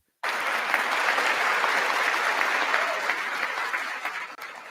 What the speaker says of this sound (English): Look who's clapping like robots.